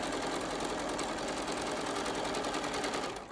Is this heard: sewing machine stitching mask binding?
yes